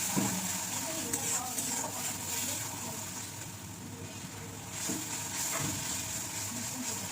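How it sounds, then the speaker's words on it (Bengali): A yogurt, cumin and coriander paste is stirred in a pan over a low gas flame, giving a steady soft sizzle with scraping stir strokes throughout, under a continuous low background hum. "এই যে পেস্টটা তৈরি করলাম যে দই জিরে গুঁড়ো আর ধনে গুঁড়ো দিয়ে পেস্টটা গ্যাসের ফ্লেম কিন্তু কম করে নাড়তে হবে"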